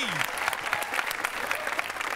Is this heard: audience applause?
yes